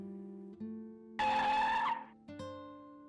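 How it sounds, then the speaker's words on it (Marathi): Hard braking in a car for an audio drama effect: a loud tire screech lasting under a second, set between steady low engine hums that drop away and then resume, with no voices. "मनाने गाडीचा ब्रेक दाबला"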